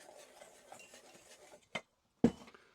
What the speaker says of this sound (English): I'm just whisking this dry because the powdered sugar and the cocoa, they both tend to have lumps